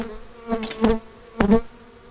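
Agitated boca de renda stingless bees buzz close by in short, loud bursts, with a few separate passes of droning wings.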